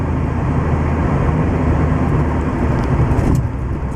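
A car drives along a road with a steady, loud interior rumble of engine and tyre noise, smooth and unbroken, with no one speaking.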